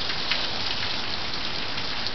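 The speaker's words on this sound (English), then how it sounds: "It's just raining now." Steady rain after a hailstorm pours down in a dense, even hiss, loud and close, with no voices and no thunder.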